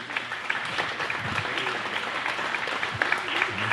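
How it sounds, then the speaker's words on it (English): An audience at a cowboy-themed gala applauds for a speaker, a steady burst of clapping from many hands sustained for several seconds, fairly close and continuous. "So if we could give a round of applause for Adam."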